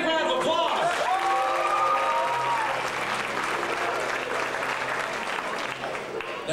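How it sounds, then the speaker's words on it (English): Audience at the Faulkner University Jamboree 2001 breaks into steady applause that follows a voice and a short musical flourish, continuing at moderate level to the end. "Give yourselves a big round of applause."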